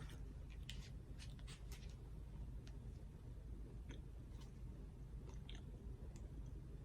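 Eating a strawberry chocolate chip muffin topped with piped cream cheese frosting: soft, close chewing and biting sounds with a few small crisp clicks over a low steady room hum, no talking.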